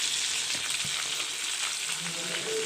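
Beef koftas fry in hot oil in a pan, giving a steady, close, continuous sizzle with faint crackles and no voices.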